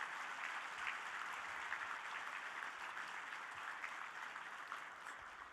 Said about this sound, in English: Can you please have a round of applause for all these guests with us today?